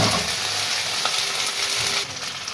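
Slices of butter melting in a hot pan alongside chicken and vegetables, giving a loud, close, continuous sizzle and crackle that eases slightly toward the end.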